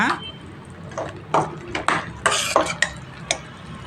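Tomato onion gojju being spooned from a cooking pot into a serving bowl, giving several sharp metal clinks and scrapes of a spoon against cookware, spaced irregularly and fairly close.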